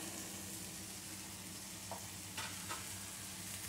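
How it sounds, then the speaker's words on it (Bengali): Chopped mango leaves and fried peanuts stirred in a sizzling pan, a soft, steady frying hiss with a few brief scraping strokes near the end, fairly quiet and without voices. "কুচোনো আম পাতাটা দিয়ে ভালো করে আবারও নেড়ে নিতে হবে"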